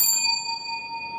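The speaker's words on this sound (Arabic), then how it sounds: "أنت اللي جاوبت، أنت رنيت الجرس فعلا الأول." A quiz-show answer bell struck by a contestant gives a single bright ding that rings on with a clear sustained tone, fading slowly over about a second.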